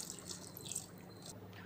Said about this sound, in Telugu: వేసుకుని వాటర్ పోసుకోవాలి